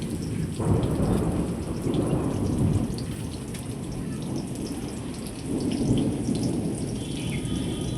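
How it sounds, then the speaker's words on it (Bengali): Heavy thunder rolls through steady rain during a daytime storm, with deep rumbling swells rising and falling over a constant patter of rain, and no talking. "প্রচন্ড মেঘ ডাকছে"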